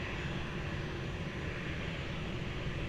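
A Delta airliner takes off from runway 20 at Lisbon Airport, its engines producing a steady, broad distant roar that holds level throughout with no voices.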